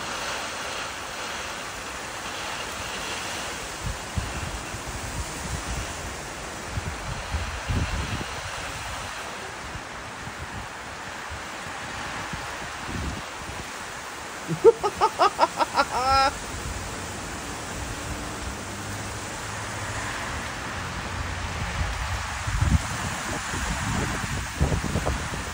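Steady rain pours down in a broad, even wash of noise, with a few brief knocks and bumps partway through.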